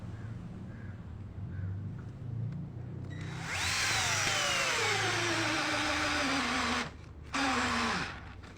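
A Ken 12V cordless drill driver sinks a 7-inch screw with a loud, close motor whine that slowly drops in pitch as it labours for several seconds, briefly stops, then finishes with a short final burst.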